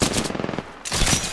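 Automatic gunfire in the video game Apex Legends, loud and close, with dense rapid bursts that pause briefly in the middle before another burst resumes.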